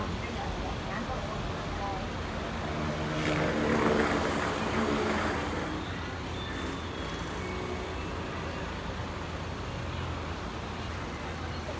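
A Harapan Jaya bus pulls out of a parking lot, its engine rumble swelling midway and then easing under steady roadway noise, with a person talking throughout.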